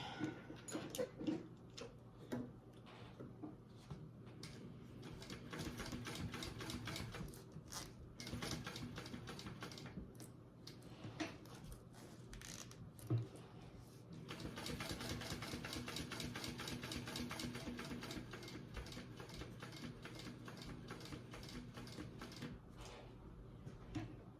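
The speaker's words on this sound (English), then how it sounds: "So I'm just going to start stitching with no back stitch." A sewing machine stitches a tote bag with contrasting thread, its needle tapping in a rapid even rhythm that runs in long bursts with brief pauses, close and fairly quiet.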